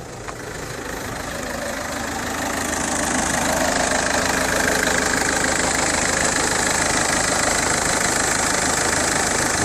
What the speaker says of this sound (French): Le moteur tourne impeccable.